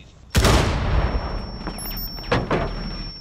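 Gunfire through a wall in Rainbow Six Siege, a loud burst of shots erupting suddenly and then a few more scattered reports, close and heavy, under a lingering high whine.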